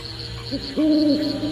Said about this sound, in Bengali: হিজল গাছের ডালে প্রথম পাখি ডাকছে